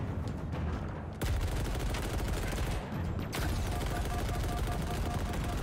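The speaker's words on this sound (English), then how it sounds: "No, it's a fucking machine gun" Sustained automatic machine gun fire in the Halo Infinite campaign, a dense rapid stream of loud shots running throughout, with a brief dip in the volley around a few seconds in.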